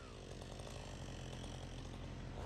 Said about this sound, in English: the screaming chainsaw that reminds me of an electric guitar going crazy